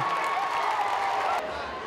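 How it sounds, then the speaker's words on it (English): Basketball crowd at a high school boys' game between Davis and Layton roaring right after a made basket, a dense sustained cheer that drops off abruptly near the end, with a commentator talking over it. "The crowd erupts."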